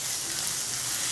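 Cashews, tomato and cucumber frying in oil in a pan for chirar pulao, a dense continuous sizzle held at an even level throughout, close and steady with no voices.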